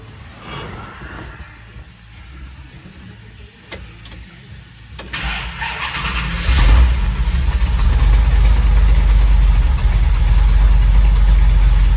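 A 1979 Dodge D100 pickup with a 727 automatic and side-exit turbo mufflers. Quiet rustling and key jangles come first, then the starter cranks and the engine catches and settles into a loud, deep, steady rumble that carries on to the end.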